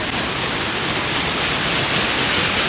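A river in Pokhara rushes past nearby, a loud, dense and unbroken wash of flowing water.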